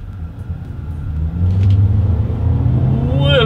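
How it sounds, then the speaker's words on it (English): A 2022 Volkswagen Taos with its turbocharged four-cylinder accelerates hard from inside the cabin, a loud rising engine rumble that builds steadily and climbs in pitch near the end. "let's see how quickly we can get this new 2022 Volkswagen Taos here up to speed"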